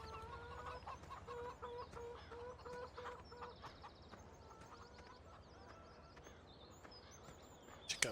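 Chickens from the video game Farming Simulator 17 cluck steadily in a repeating pattern over a constant farm-ambience bed, with a brief louder burst right at the end.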